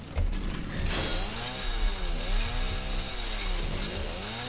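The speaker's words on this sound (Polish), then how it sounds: "Teraz musimy przypiłować tutaj. I niestety stracimy piłę." In Resident Evil 7, a hand saw cuts through something with repeated back-and-forth strokes, a steady rasping rhythm heard close and at moderate level with no voices.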